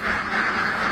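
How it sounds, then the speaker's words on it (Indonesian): A duck gives a single loud, close nasal quack held for under a second, with ducks foraging by a rice paddy. "Bebeknya ke sawah. Makannya gratis."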